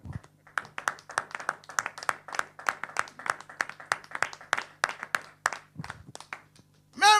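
Rhythmic clapping from a church congregation at a sermon on family, steady beats filling the stretch from start to finish with a brief loud shout near the end.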